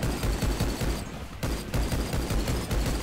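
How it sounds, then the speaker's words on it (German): Dual pistols fire in the video game Rise of the Triad, a fast rapid-fire volley of sharp shots in steady rhythm, loud and close, briefly pausing mid-burst before resuming. "So, komm, benutzen wir mal die Pistolen."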